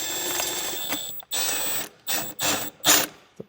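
Socket ratchet turning an intercooler pipe bolt on a Mitsubishi Eclipse GSX in several short bursts of rapid clicking separated by brief pauses, close and fairly loud.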